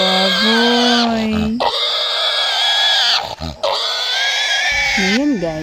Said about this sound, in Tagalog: Ay, kawawang baboy.